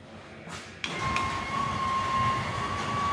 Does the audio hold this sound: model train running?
yes